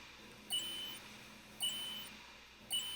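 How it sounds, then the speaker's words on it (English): Three faint electronic beeps sound at regular intervals of about a second over a low hum in the Snatcher video game. "I hear it beeping"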